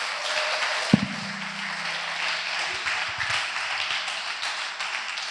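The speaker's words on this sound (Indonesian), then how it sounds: "Tepuk tangan buat Al-Akh Yunus." An audience at an evening Islamic student discussion applauds a speaker, a sustained wash of crowd clapping at moderate distance, opening with one sharp knock.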